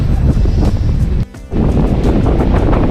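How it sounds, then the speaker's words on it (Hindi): Strong wind blasting at Nohkalikai waterfall in Cherrapunji, Meghalaya, a loud continuous roar buffeting the microphone, dropping briefly for a moment before surging back. "फिर से हवा इतनी तेज चल रही है, शूट कर पाना भी मुश्किल हो रहा है"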